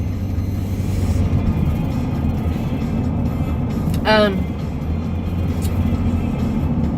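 Road traffic with buses passes by as a steady, loud, low rumble throughout, broken by a brief squeal about halfway through.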